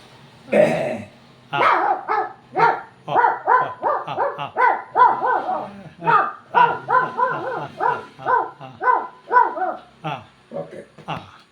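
A person yaps in quick, high bursts, imitating a small puppy's barking, with a rapid, steady rhythm that carries on for several seconds.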